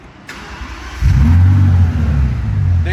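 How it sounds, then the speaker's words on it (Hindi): A Bentley car engine starts after a click and settles into a loud, throaty idle with a brief rev, close by and steady. "देख रहे हैं आप गाड़ी का साउंड मजे का है"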